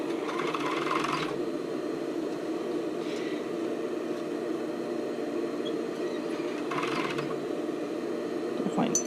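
A sewing machine zigzag-stitching rolled-edge elastic onto a sports bra runs as a steady, fairly quiet mechanical hum, with a few brief brighter bursts of faster stitching or handling noise along the way.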